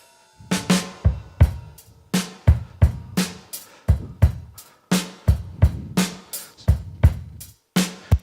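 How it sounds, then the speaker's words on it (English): A processed drum stem plays a steady, punchy groove, with booming kick drum hits and crisp, sharp snare cracks repeating in a tight rhythm, loud and alone. "My drum stem sounds like this."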